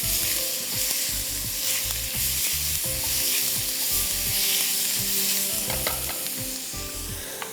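Chicken fries in a pan with onion and ginger-garlic paste, a loud continuous sizzle close up, broken by repeated scraping and knocking of a stirring spoon, with no speech.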